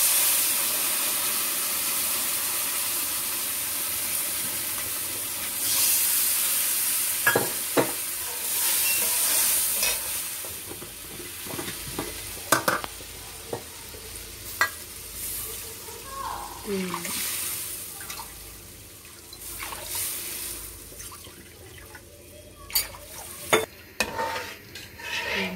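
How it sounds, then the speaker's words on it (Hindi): Water poured from a bowl into roasted semolina for sooji halwa hisses and sizzles loudly in the hot pan, with steady stirring scrapes and clinks as a voice talks intermittently. "अब मैं इसमें पानी ऐड करूँगी, तो जिस कटोरी से मैंने सूजी ली थी उसी कटोरी से मैं 6 कटोरी पानी इसमें डालूँगी"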